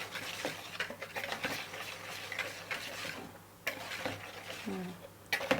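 A spoon mixing flour batter for fried bananas in a bowl makes light, irregular tapping and scraping close by, repeated in quick clusters with brief pauses.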